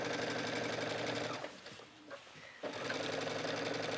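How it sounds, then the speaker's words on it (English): A sewing machine stitches a stretch-fabric skirt waistband, whirring steadily and close, then stopping briefly before resuming its rapid even hum. "So just go ahead and stitch."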